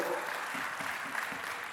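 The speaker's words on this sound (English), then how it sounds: "Can you give that kind of an applause?" An audience at a business networking event claps in a brief, even wash of applause, with faint low murmuring underneath.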